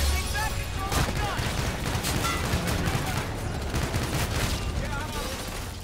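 Gunfire in the sci-fi shooter game Call of Duty: Infinite Warfare, a steady fusillade of shots and blasts with futuristic effects running throughout, with a voice heard over it.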